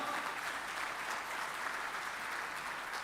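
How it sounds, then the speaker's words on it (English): An audience applauds steadily for about three seconds, a dense, even wash of many hands clapping at once with no talk over it. "Give a round of applause to yourselves for being able to listen to this."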